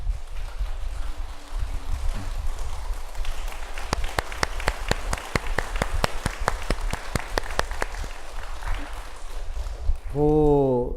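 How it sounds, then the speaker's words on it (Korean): A Buddhist temple congregation at a Sunday service applauds, a soft, diffuse patter of many hands under steady room noise, joined by a run of sharper rhythmic claps in the middle, with a voice speaking briefly at the end. "근데 한번 우리 박수를 쳐주게"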